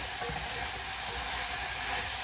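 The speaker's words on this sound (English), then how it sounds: "The steam pretty much to me helps the vegetables cook in itself" Steam hisses steadily as vegetables cook beside steak on a hibachi grill, a loud, even, continuous rush close by with no voices over it.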